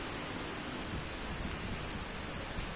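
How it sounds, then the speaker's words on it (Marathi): Rain falls steadily in Pathardi, Nashik, as dense, even hiss, moderately quiet and continuous throughout, with no voices. "खूप सुंदर पाऊस पडतोय"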